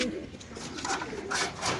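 Giribaz pigeons coo in soft, low throaty bursts close by, a few overlapping calls over a short stretch with faint background voices.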